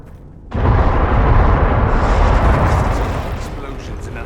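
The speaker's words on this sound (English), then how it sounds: "Explosions in an underground ruin." Explosions rumbling through an underground ruin in the video game Dragon Age: Inquisition: a sudden loud, deep blast that swells into a sustained roaring rumble, then slowly tapers off.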